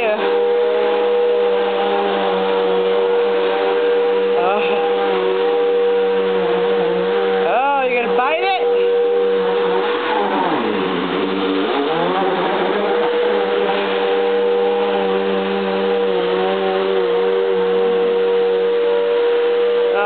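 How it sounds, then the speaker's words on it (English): A vacuum cleaner drones steadily and loudly throughout, its motor pitch wavering at times, with a voice sounding over it. "You're going to get that vacuum cleaner"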